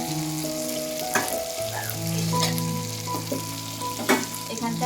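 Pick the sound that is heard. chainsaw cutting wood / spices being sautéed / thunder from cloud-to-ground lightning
spices being sautéed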